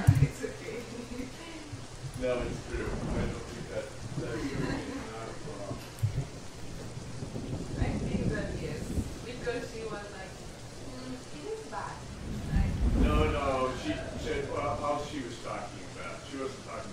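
Rain and rolling thunder in a Roblox camp game form a continuous hiss with low rumbles swelling and fading, while people talk over the storm throughout.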